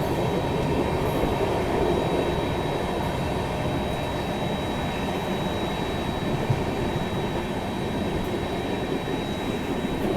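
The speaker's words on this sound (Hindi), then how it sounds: "ओ देखो कहाँ झाड़ियों के पीछे से मालगाड़ी भाग रही है" A freight train runs on a parallel dedicated freight corridor track, making a steady, loud rolling rumble and rail noise that continues unbroken throughout, heard alone with no talk.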